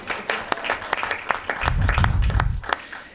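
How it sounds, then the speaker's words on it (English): Scattered audience clapping at a school board meeting, sparse individual claps that build briefly into a short burst of applause before thinning out. "You guys can clap for it."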